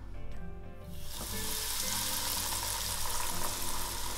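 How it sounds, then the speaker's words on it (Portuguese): Cheese balls fry in hot oil in a small pot, a loud, steady sizzle that swells sharply after a quieter start and continues alone without talk. "A gente vai colocar de 5 em 5 bolinhas de queijo"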